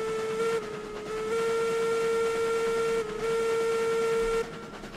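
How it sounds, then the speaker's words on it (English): A steam locomotive whistle from RailRoads Online sounds loud and close, with sustained steady blasts broken by two short gaps, over a hissing, chuffing engine bed and no talk. "Let the whistle ring out through the valley."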